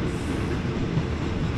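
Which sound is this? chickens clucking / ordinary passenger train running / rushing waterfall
ordinary passenger train running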